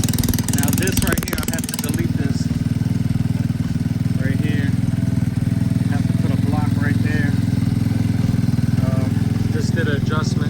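A Boom Vader Grom clone motorcycle with a freshly installed carburetor idles close by, a loud steady low putter with a brief revving burst at the start and a voice speaking over it.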